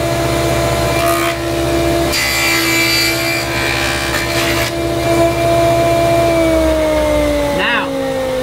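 Table saw cutting a dado in wood against an Incra jig: a steady motor whine runs throughout, with louder bursts of blade-through-wood grinding as the cut proceeds, then the motor pitch drops as it spins down near the end.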